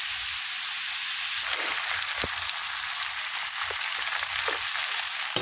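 Ground pork frying in a pan for a guisado, a continuous crackling sizzle like steady rain with a few sharper pops, close and alone without talk.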